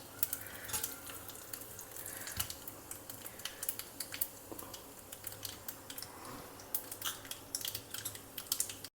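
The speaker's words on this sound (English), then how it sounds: "Now when the oil is hot, add some mustard seeds, urad dal, a little bit of hing, just a pinch will do, 2 dry red chillies" Mustard seeds, urad dal, a pinch of hing and dry red chillies crackle in hot oil for a South Indian tempering, a steady spatter of small pops and sizzles at close range with no talk over it.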